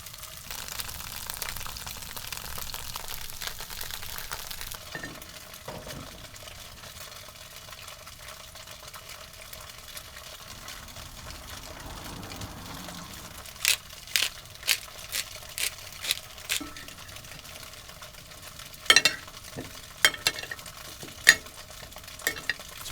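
Tofu fries in a pan for gourmet instant ramen inside a truck camper, a faint, steady sizzle punctuated by scattered sharp clicks and light utensil taps, with no voices.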